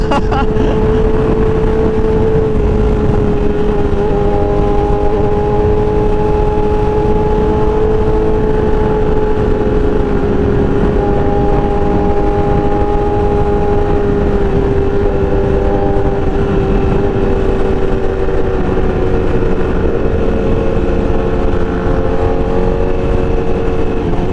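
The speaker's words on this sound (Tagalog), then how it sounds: "Kung naririnig nyo sa personal ang tunog ng tambutso nito, maririndi kayo sa lakas, sobra" A loud Honda CBR1000RR sport motorcycle engine roars continuously near the listener, a steady throaty exhaust drone with little change in pitch.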